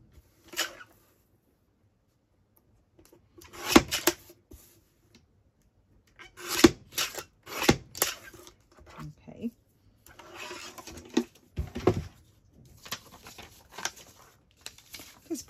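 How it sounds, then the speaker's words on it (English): Paper pages being trimmed for a stitched template give short, dry scraping and rasping strokes in irregular bursts, close and fairly quiet, separated by silences. "And I just need to trim a little bit off the top as well."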